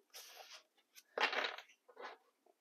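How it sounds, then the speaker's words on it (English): Tarot cards are shuffled by hand in close, crisp riffling bursts, two longer flurries and a few short slaps with brief pauses between them, heard alone at low volume. "So let's begin to do some shuffling."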